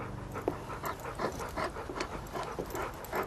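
A dog pants in quick, steady rhythmic breaths, close and moderately loud, with no talking.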